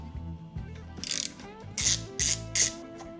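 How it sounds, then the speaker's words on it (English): A ratchet backs out the two mounting screws of the brake vacuum pump on a 2017 BMW i3, with several short bursts of close, crisp clicking and brief pauses between them. "We're going to pull it off by removing these two mounting screws"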